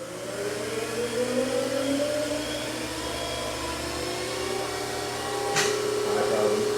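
A 2006 Haas VF-2SS CNC mill spindle winds up in speed, a steady rising whine climbing in pitch over several seconds within a machine shop, with a brief sharp click near the end.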